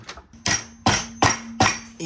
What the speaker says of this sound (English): I think you can knock this out with a hammer